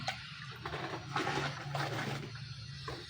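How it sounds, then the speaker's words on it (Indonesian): Liquid laundry soap mixture being poured and stirred in a large batch, a close sloshing, gushing rush of water swelling in the middle and easing off, with no voices. "Kita masukkan 5 liter lagi, kita aduk lagi."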